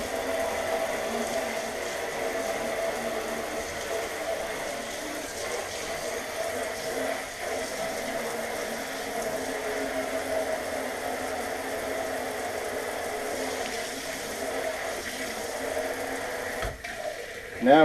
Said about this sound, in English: Now let's run some hot water through it.